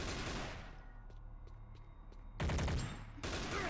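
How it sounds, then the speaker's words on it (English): Pistol fire in a Doom 3 gameplay mod, a run of quick sharp shots at a rapid rate, then heavier loud blasts near the end, close and with no talking. "pistol guys now fire at this ridiculous rapid-fire rate"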